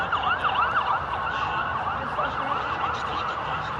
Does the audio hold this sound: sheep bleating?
no